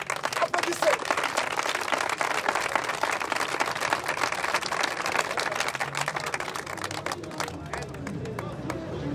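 Church audience applauding a pastor at a Christian gathering in Côte d'Ivoire, a dense sustained wash of clapping and crowd noise filling the space, steady and loud throughout with a slight thinning near the end.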